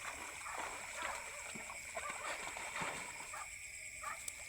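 A person jumps into a river with a brief splash of water, set against running stream sounds, a distant barking dog and faint outdoor noise near rice paddies.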